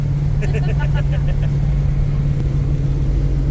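Steady in-car road noise from a car cruising along a highway through thick cloud on the way to a dragway, a low continuous engine and tyre rumble that holds level and close throughout, with a brief burst of voice near the start.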